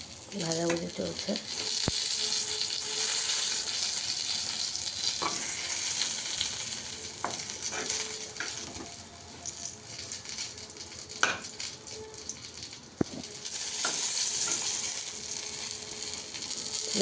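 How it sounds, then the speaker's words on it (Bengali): Food, including okra, fries in a home kitchen pan with a constant crackling sizzle, broken by scraping stirs and a few sharp clanks of a utensil against the pan. "ভাজাভুজি চলছে।"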